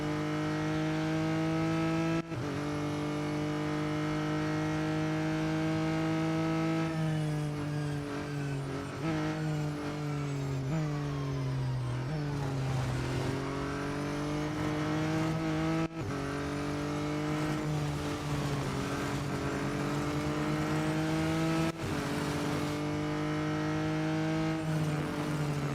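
A McLaren race car in the racing game Real Racing 3 roars steadily, its engine pitch climbing and dropping through repeated gear changes over a long stretch, with no voices.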